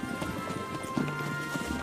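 Horse hooves clip-clop in a steady rhythm on the Mongolian steppe, close and distinct, with a brief whinny and faint background sound over the paced footfalls.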